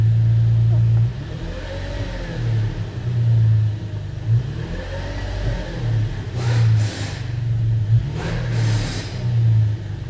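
Car engine of a vehicle with a stuck-open throttle revving to about 2,000 RPM with the accelerator fully pressed, repeated rising and falling revs close by, with someone talking over them.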